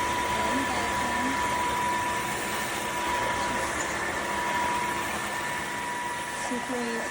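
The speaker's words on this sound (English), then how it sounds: "I'm gonna show you my lovely floor mop thingy vacuum" A Dreame H12 Pro cordless wet-dry vacuum and floor mop runs in auto sweep-and-vacuum mode indoors, giving a steady close motor whine with a high tonal hum that holds evenly throughout, with faint clatter underneath.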